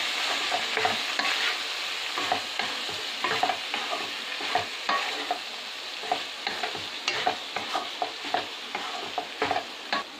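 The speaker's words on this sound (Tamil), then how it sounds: "எல்லாம் சேர்த்து நல்லா mix பண்ணிடலாம்." Paneer macaroni pasta being stirred in a hot pan, a close continuous sizzle broken by frequent rhythmic scraping strokes of a spoon, with no talking.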